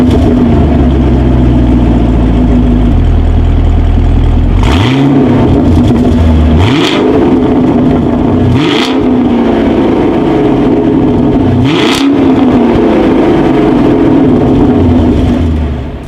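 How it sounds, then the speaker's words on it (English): A 2019 Chevrolet Camaro SS engine idles, then roars through four sharp revs in quick succession, each climbing and falling back, loud and close at the exhaust. "As always, here is that exhaust clip."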